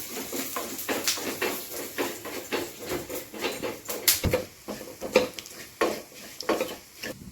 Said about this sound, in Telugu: ఒక టీ స్పూన్ జీలకర్ర తర్వాత ధనియాలు కొన్ని ఇవి కూడా బాగా దూర వేయించుకోవాలి